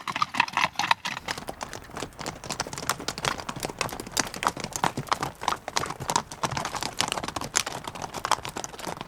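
Horse hooves clip-clop steadily at close range in an Icelandic fjord landscape near Thingeyri, a brisk run of sharp, evenly spaced knocks that carries on throughout with no talk over it.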